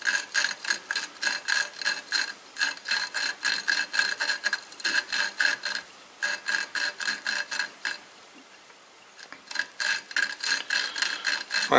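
Steady, rapid back-and-forth scraping strokes of metal grinding against metal as an engine valve from a moped is lapped by hand, close by, with a brief pause before the rhythm resumes.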